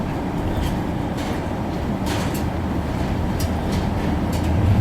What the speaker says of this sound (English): Never thought I would drive a car onto a train.